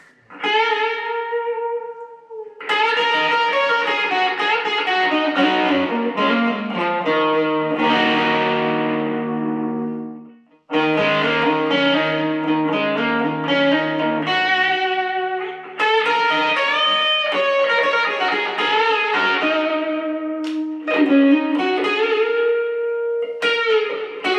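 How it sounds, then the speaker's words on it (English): An electric guitar runs through a Tube Screamer overdrive and a delay pedal into a Yamaha THR5 amp, playing loud, sustained driven chords and notes with echoing repeats. It continues almost without a break, with one brief drop near the middle and no talking. "let's put on the tube screamer and let's give it some delay on top in front of the amp."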